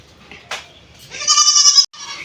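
A goat brought home from a relative's house gives a short faint call, then one loud, close, strongly wavering bleat, with a brief clatter just before it and quieter noise afterwards.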